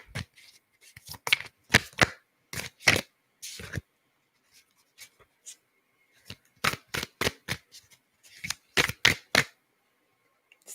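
Oracle cards are shuffled and drawn in bursts of crisp riffling and flicking, separated by pauses, close up and without speech.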